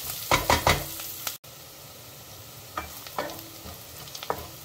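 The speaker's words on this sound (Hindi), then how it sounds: "अनियन को लाइट ब्राउन कलर होने तक हम इसको कुक करेंगे।" Finely chopped onions fry in a pan with short bursts of stirring and sizzling, then quieter stretches of faint cooking with occasional scrapes.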